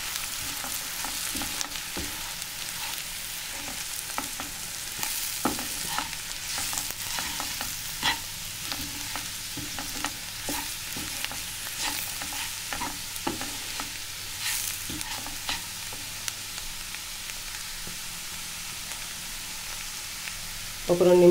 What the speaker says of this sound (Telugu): ఇది కొంచెం ఆయిల్లో వేయించుకున్నామంటే కొంచెం బాగుంటుంది టేస్ట్